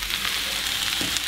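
Garlic, potatoes and sausage fry together in a pan, giving a steady, close sizzle that holds even and continuous throughout with no talking.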